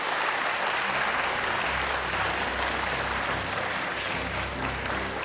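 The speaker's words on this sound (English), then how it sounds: "a round of applause for our running mates" An audience at a 2017 presidential running mate debate claps steadily for the running mates, a dense, even wash of applause throughout with no talking.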